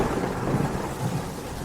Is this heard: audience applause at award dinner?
no